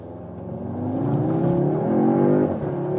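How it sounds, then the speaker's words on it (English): A 333-horsepower Audi S3 launches hard from a standstill out of a corner, its engine note climbing steadily in a loud, close rising rev before easing slightly at the end. "One more time, acceleration from standstill, but out of the corner."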